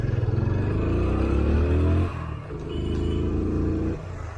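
A motorbike with failing brakes labours up a hill road near Nainital, its engine droning in a low, strained tone that dips and shifts pitch twice as it struggles, close and steady with no voices.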